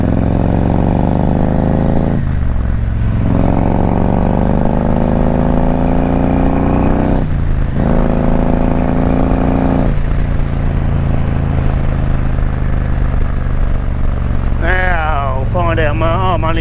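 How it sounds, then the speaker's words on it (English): A motorcycle engine rumbles loudly and deeply up close, revving up and down in waves, with a brief chirpy sound near the end. "it sounded a lot deeper and throatier on the exhaust side of things"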